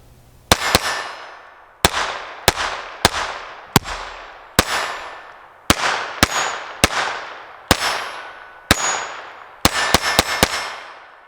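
A KelTec P17 .22 pistol fires a magazine of 40-grain Federal rounds, about fifteen sharp, loud shots in an uneven rhythm, each followed by a ringing echo, with a rapid cluster of shots at the end.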